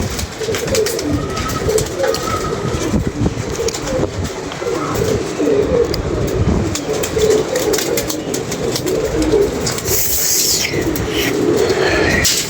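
Pigeons, including banded-wing birds, coo repeatedly in a loft, low throaty calls overlapping close by amid rustling and occasional wing flaps.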